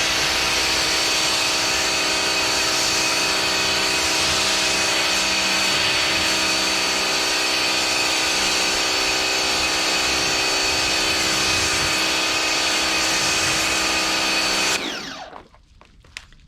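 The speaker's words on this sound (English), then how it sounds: "So now we're going to actually foam up the car, and with the Bosch, obviously because we get this that comes with it, we're going to use this first." Bosch Aquatak 110 pressure washer spraying Turtle Wax snow foam onto a car, a steady loud motor drone with hissing spray running continuously before cutting off abruptly near the end.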